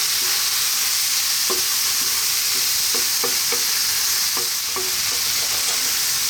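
Beef frying over high heat with spices and tomato in a pan for a burrito filling: a loud, steady broadband sizzle runs throughout, broken by scattered clinks and scrapes of a utensil stirring, with no voices.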